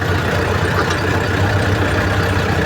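A Jinma 404 tractor diesel engine runs close and loud in a steady, unbroken rumble with an even throb throughout.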